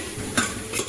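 Onion, tomato and spice masala with turmeric, chili powder and garam masala gets stirred in a hot pan, a steady close scraping and sizzle with a couple of louder utensil scrapes against the metal.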